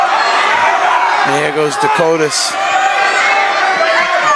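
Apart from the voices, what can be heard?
crowd at a high school wrestling match in a gymnasium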